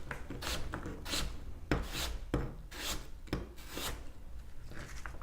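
A knife draws repeatedly through apple quarters on a board, each thin slice giving a short rasping stroke in a steady, close rhythm with no talking.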